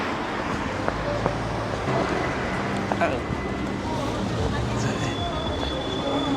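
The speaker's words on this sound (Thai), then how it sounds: "รถไฟไม่ทันขบวนนั้นนะฮะเดี๋ยวรอขบวนถัดไปแล้วกัน" A train at a station in Istanbul rumbles with a broad, steady mechanical noise, faint wheel squeals and tonal whines rising over it, while people talk in the background.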